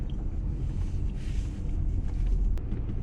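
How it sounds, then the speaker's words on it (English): Steady wind buffeting a microphone outdoors beside a car, a loud continuous low rumble with gusty swells throughout and no voices. "it's a little bit windy today"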